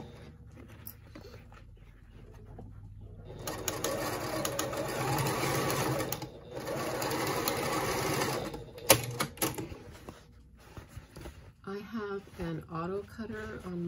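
A sewing machine with a thread cutter runs in bursts of rapid stitching on a lined zippered pouch, stopping and starting, with light handling noises between runs and a brief voice near the end.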